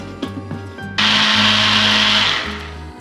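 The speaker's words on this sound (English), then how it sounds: "Now put the lid on and give it a really good blend." An electric blender whirs loudly into life after a few clicks and knocks, churning carne asada marinade in a steady high whine that slows and winds down near the end.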